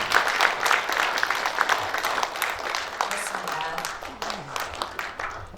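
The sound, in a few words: applause for guests at a ceremony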